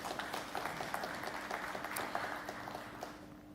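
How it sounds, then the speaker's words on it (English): Faint, distant applause at a House of Assembly plenary sitting, a soft continuous patter of many hands lasting a few seconds and tapering off. "I think that's all deserving of a round of applause"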